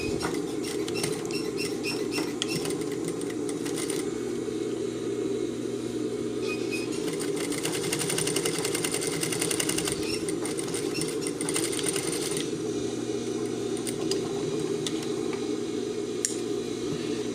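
A sewing machine stitches a seam on jeans trousers, a loud, close, continuous mechanical whir with a rapid needle rattle that runs without stopping and has a few brief surges in intensity.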